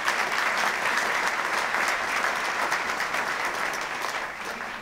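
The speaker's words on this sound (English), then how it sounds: "Let's give King a great round of applause for his leadership." A crowd applauds steadily at a university engineering groundbreaking ceremony, dense clapping filling the room at a strong level before tapering slightly toward the end.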